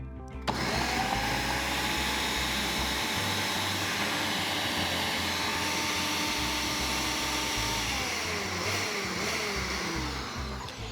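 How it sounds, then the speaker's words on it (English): Blender running continuously to crush watermelon and ice into a frozen margarita, a loud steady motor whir with a dense high grinding hiss that holds for about ten seconds and shifts pitch slightly near the end. "you want to blend everything together just until the consistency is just perfect, like a margarita"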